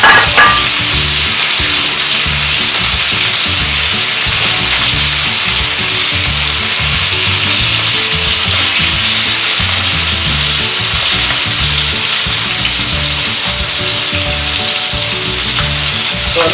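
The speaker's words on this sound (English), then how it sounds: "Then we're going to sear our pork rib roast in this pan." A pork rib roast sears in a very hot pan, a loud, constant close-up sizzle with crackling spatter and a low background rumble, no one speaking.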